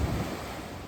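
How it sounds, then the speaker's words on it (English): Rushing water from Bassi Falls, a 109-foot waterfall swollen with snowmelt, heard as a steady broadband roar, fairly faint and continuous with no voices. "the main attraction is Bassi Falls, a 109-foot waterfall overflowing from snowmelt"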